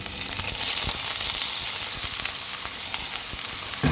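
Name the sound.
frozen mussel meat frying with ginger in a pan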